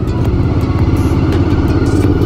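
Loud motorcycles rumble past close by on a road, a continuous throaty engine drone with steady pulsing firing and no voices.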